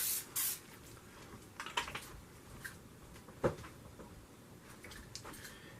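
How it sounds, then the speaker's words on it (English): Short hissing bursts of aerosol cooking spray, a few quick puffs separated by quiet pauses, close by and fairly soft. "We're going to spray it with some non-stick cooking spray here."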